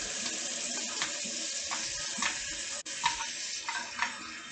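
Hot water running from a kitchen tap into a sink while sardine sauce is drained, a steady hiss of flow broken by clinks and splashes as items are handled nearby.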